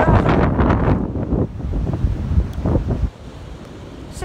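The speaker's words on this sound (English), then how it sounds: "it's just so lovely to walk out into the waves and enjoy" Ocean waves breaking on the beach at Woolacombe Bay, Devon, a loud continuous rushing surf heavily buffeted by wind noise on the microphone, easing slightly partway through.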